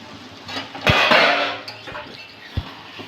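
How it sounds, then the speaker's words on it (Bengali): A metal lid taken off a pot of pumpkin and potato curry on the stove, a close clatter and scrape followed by steam hiss and a final clink. "আমি ঢাকাটা খুলে দিচ্ছি।"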